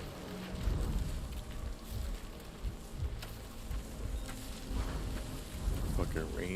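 Steady rain falls in Death Stranding 2 as a dense, hissing wash with low rumbling underneath, constant and fairly faint throughout.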